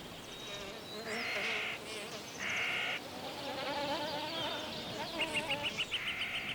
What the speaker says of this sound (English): wasps, bees and hoverflies that are feeding on their nectar